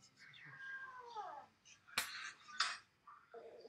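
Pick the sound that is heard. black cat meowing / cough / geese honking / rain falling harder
black cat meowing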